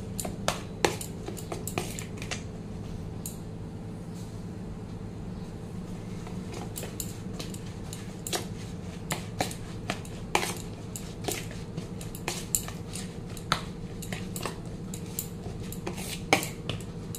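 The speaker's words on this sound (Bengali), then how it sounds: "এইভাবে আস্তে আস্তে পুরো সুজিটা দিয়ে আমি মিলিয়ে নেব, এটার সাথে মিশিয়ে নেব ভালো করে।" A utensil scrapes and clinks against a bowl as semolina is stirred into a batter with two eggs, giving irregular sharp taps and clicks over a steady low hum, with no talk.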